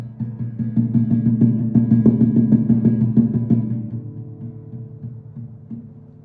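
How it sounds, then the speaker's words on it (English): Fingers tapping the strings near the bridge of a guitar in flamenco tambura style, giving a steady run of soft, percussive strummed thumps with ringing chord tones that fade and sustain after about four seconds. "you're going to tap on the strings near the bridge of the guitar"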